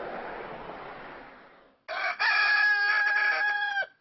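Elvis, a pet rooster on Farm Hill Road in Cape Elizabeth, gives one loud, close, full crow lasting about two seconds after a stretch of soft outdoor noise.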